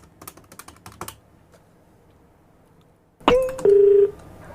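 A telephone is dialed for a radio prank call: a burst of quick button taps, a pause of near silence, then a sharp click followed by short electronic tones close up.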